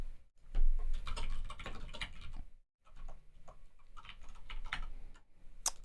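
Computer keyboard typing as card details are entered on a payment form, a steady patter of close key clicks with a brief pause midway, no voices.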